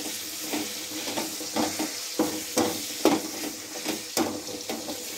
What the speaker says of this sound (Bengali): এই টমেটোটা এখানে ভালো করে কষিয়ে নেব